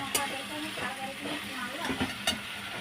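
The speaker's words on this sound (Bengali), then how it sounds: "এখন আমি বাদামগুলো দিয়ে দিব আস্তে আস্তে। এটা ভালো করে নেড়ে দিব।" Peanuts going into a hot pan and being stirred make a close sizzle with scattered scraping and light clicks, plus a couple of sharper taps.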